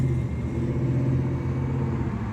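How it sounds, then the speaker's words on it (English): A white SUV passes through a busy United States intersection at a traffic light, giving a steady low engine rumble and road noise close by, with no voices. "there goes the white SUV"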